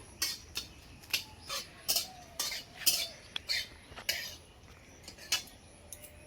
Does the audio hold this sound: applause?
no